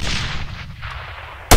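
Arma 3 soldiers' gunfire: the tail of a shot fades at the start, then an abrupt, loud rifle report bursts at the very end.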